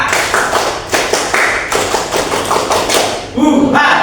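A classroom group performs Indonesian scout clap patterns: single claps, double claps and the scout clap, sharp hand claps in quick rhythmic bursts close by, with a voice calling along near the end.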